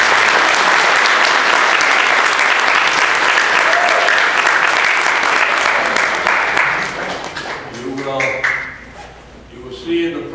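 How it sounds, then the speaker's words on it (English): Audience applause at a federal citizenship naturalization ceremony in Utica, New York, a loud sustained clapping that fills most of the stretch before thinning out, with a voice starting to talk as it fades. "please give them a nice round of applause"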